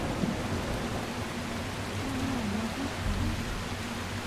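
A thunderstorm in the survival video game The Last Caretaker gives steady heavy rain hiss over a low rolling thunder rumble, constant and fairly loud with no talking.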